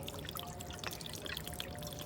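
Fresh water being poured into a money plant's container, a short close, quiet stream of liquid splashing and trickling steadily without pause, no voices.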